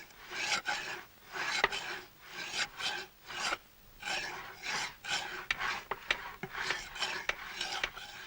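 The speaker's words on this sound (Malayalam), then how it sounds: "ഈ ഉളി തേക്കാൻ തുടങ്ങിയിട്ട് നേരം എത്രയായെന്നാ ഞാൻ ചോദിച്ചത്." A chisel being sharpened by rubbing on a stone gives a steady back-and-forth rasping stroke, about a dozen close, even scrapes in a regular rhythm with no talk.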